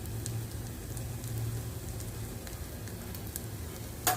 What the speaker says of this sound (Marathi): हे सुद्धा छान प्रकारे मसाल्यामध्ये भाजून घ्यायचं आहे